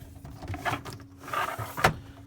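An underbed drawer in a 2002 Autotrail Dakota motorhome slides open and shut with a brief rumbling scrape and a sharp knock at the end, close by in a quiet room.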